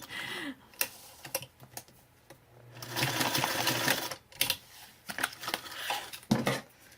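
A home sewing machine driven by a foot pedal, worked in tennis shoes while stitching a cute "Home" tag, runs in short stop-start bursts, with one longer steady whir in the middle, close and fairly loud.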